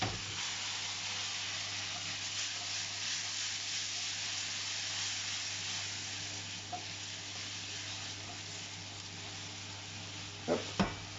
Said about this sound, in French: Comme c'est en train de caraméliser, je vais venir mettre mes pommes.